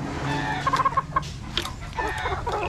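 Young Boston Hatch pullets cluck close by in a short burst of soft, chattering calls over a low background murmur.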